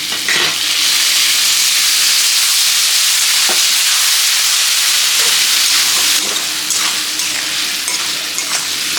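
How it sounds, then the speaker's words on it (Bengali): Paste of onion, green chili, ginger and garlic sizzling and frying in hot oil, a loud steady hiss throughout with occasional stirring scrapes. "এটা অল্প হালকা করে ভেজে নিই"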